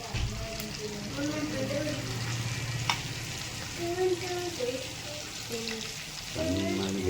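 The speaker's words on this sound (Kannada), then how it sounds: "ನಮ್ಮನೆಯವ್ರು ನೋಡಿ ಇಲ್ಲೆಲ್ಲ ಗಲೀಜು ಮಾಡ್ಕೊಂಡು ಫ್ರೈ ಮಾಡ್ತಾ ಇದ್ದಾರೆ" Fish sizzling and spitting in hot oil in a home kitchen pan, a steady close frying hiss with scattered pops, while a voice talks over it at intervals.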